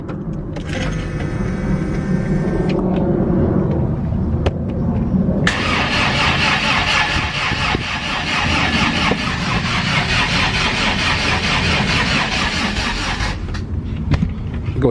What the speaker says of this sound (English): I am going to prime the engine for a little bit, make sure we get oil through the whole system